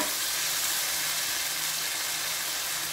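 Pepper paste and vegetables frying in a pan, with steady, close sizzling hiss that holds evenly and alone throughout.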